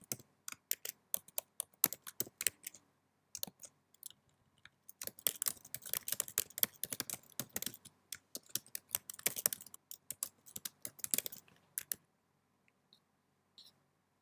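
Computer keyboard typing in bursts of rapid key clicks, with short pauses between runs and a dense flurry in the middle, close and clear with no talking.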